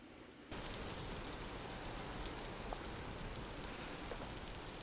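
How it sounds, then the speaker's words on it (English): Rain pours down in the video game Vintage Story, a dense, even hiss that starts abruptly and holds steady with faint drop patter, with no talk over it. "It is raining in Vintage Story."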